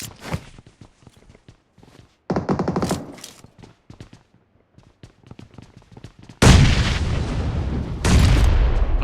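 Game gunfire and a bomb blast in a battle-royale match: sharp scattered shots and clicks, then a loud dense burst, and finally a long heavy roaring explosion that fills the last few seconds.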